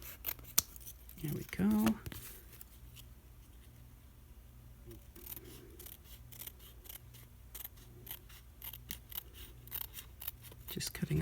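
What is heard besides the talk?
scissors cutting paper along an edge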